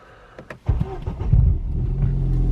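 A Ford Fiesta ST180 fitted with a Revo SPS switch cranks briefly, then catches and settles into a loud, steady idle close by, with no talk over it.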